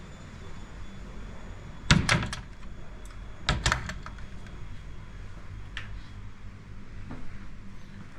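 A hotel bathroom's sliding door to the bathtub at a resort in Ubud, Bali, rattles and thuds in two sharp bursts of sliding and knocking, close by, followed by faint clicks in a quiet room.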